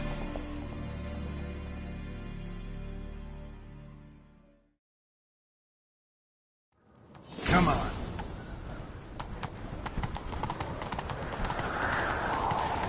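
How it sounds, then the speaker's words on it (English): Rapid horse hooves pound at a gallop in The Witcher 3: Wild Hunt after a brief silence, loud and close with whooshing movement, while a voice speaks briefly over the start. "Grab a horse, we'll chase him down."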